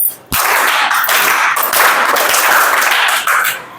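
Children in a classroom clap together in a dense, loud burst of applause that starts abruptly, holds steady for about three seconds, and then trails off.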